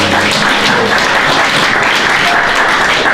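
A church congregation applauds the Lord, dense, loud, sustained clapping from a large crowd filling the room without pause.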